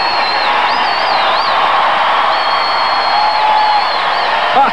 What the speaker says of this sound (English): Look at this, she does get a standing ovation.